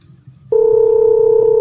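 A telephone tone begins abruptly after a short pause, a loud, steady, continuous pitched hum that holds to the end over faint background noise.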